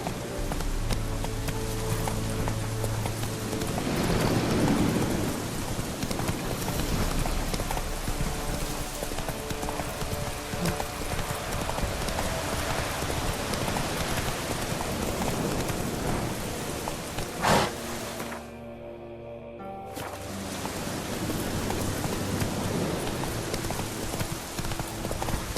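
A horse gallops with a steady clip-clop of hooves in The Witcher 3 on PS4, accompanied by continuous rain and occasional rumbles of thunder, with a brief drop-out near the end before the hoofbeats resume.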